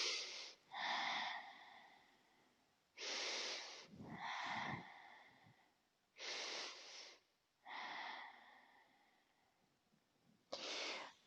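Slow, deep breaths during a yoga pose: airy inhales and exhales in a steady rhythm, close and fairly quiet, with several longer breaths separated by short pauses.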